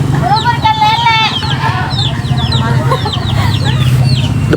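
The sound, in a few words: chickens clucking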